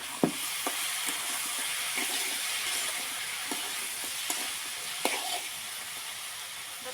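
Jackfruit seed curry sizzles steadily in a pan as it is sautéed, with a constant hiss and occasional scraping taps from a spoon during stirring, heard up close and without talk.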